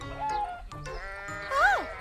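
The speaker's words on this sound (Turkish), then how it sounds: "Bir keçi." A goat in the Caillou cartoon gives short, wavering bleats, one early and a louder one near the end, with a voice speaking between them.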